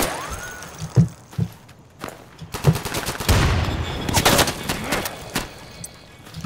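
Rapid bursts of automatic gunfire from the Insurgency video game, sharp cracks and short fusillades scattered across the moment, fairly close and loud with brief gaps between them.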